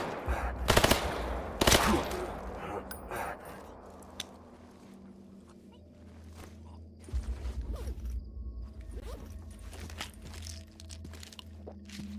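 Video game gunfire: a few loud bursts of automatic fire up front, then scattered, fainter shots and mechanical clicks over a low steady hum, with another louder burst later.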